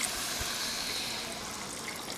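A soft, continuous stream of water pours steadily into a South Indian mutton curry gravy for a couple of seconds, faint and close, with a low gurgling hiss.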